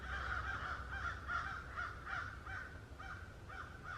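Crows caw again and again in an agitated, fairly steady rhythm from a moderate distance outdoors. No voices are heard.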